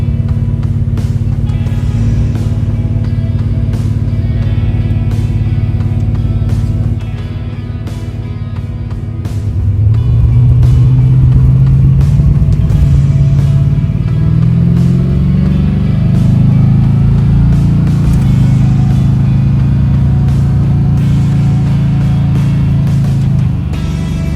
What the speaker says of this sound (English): So Vicky ended up joining me for the first test drive with the 440 in the Malibu.